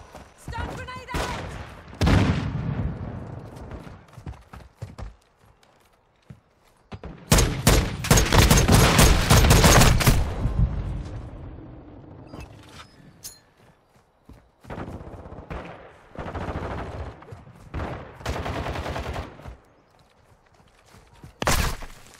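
Bursts of gunfire in the Modern Warfare 2 video game, with loud close rapid volleys and scattered shots separated by quieter gaps and shouted voices.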